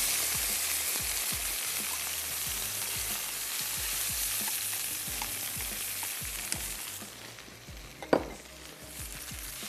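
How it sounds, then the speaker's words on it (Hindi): Stock poured into a pot of carrot soup sets off loud, steady sizzling and frying, with a spoon stirring and scraping against the pot and a sharp metallic clink near the end. "चलिए अब इसमें ऐड कर देते हैं स्टॉक।"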